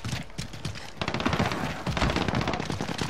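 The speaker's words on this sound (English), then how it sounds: "I'm taking fire!" Gunfire in the Call of Duty Modern Warfare multiplayer map Shoot House: rapid automatic bursts of shots, dense and loud, with a brief pause before a second sustained volley.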